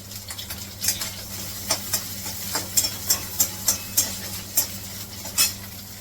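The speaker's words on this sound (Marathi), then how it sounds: "आता हे खोबरं मी तर भाजून घेते" Fresh grated coconut is dry-roasted in a pan and stirred, with a soft sizzle and a low steady hum behind a run of sharp, close spatula clacks coming every half second or so.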